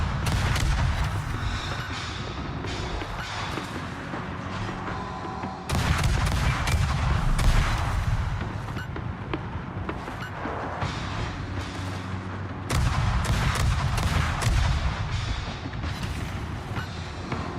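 Video game gunfire rattles in dense, continuous bursts, loud and close, with heavier volleys surging in every few seconds.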